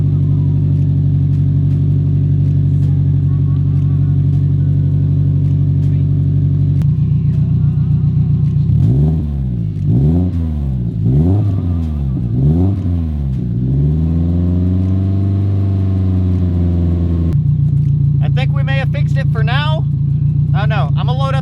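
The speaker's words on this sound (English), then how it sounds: "I'm gonna let this thing idle because last time I got it started and it was idling and it just died randomly" A turbocharged car's engine idles steadily as it warms up, a loud constant rumble with several rising and falling revs partway through, and a person talks over it near the end.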